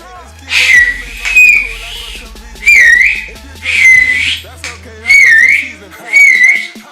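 Repeated sharp whistle blasts, five bursts in an irregular rhythm, loud and close, used to call a dog, with some background sounds beneath.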